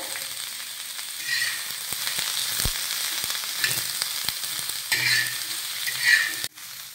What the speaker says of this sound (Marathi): आता यावर थोडंसं तेल घालूया आणि हा कांदा तांबूस रंगावर छान असा परतून घेऊया